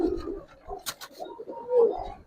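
Kaldom pigeons give short, low coos up close, with a brief sharp flutter or rustle in the middle and a soft trailing coo near the end.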